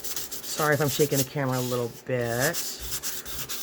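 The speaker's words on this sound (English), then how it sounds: "So what I do is I do take sandpaper over anything super glossy like this, so that the paper has something to grab onto." Sandpaper rubbing over a glossy playing card to rough its surface for decoupage, a steady scratchy rasp of back-and-forth strokes running under a nearby voice talking throughout.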